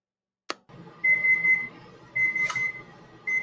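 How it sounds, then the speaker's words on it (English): A kitchen timer for pizza baking in an oven goes off after a single click, beeping loudly and steadily in three separate bursts. "Timer."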